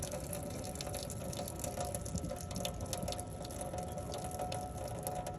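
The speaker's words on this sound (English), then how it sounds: "Just need to drain the water off these potatoes." Steady rushing and splashing of water draining off boiled potatoes, continuous and fairly close, with faint metallic clinks mixed in.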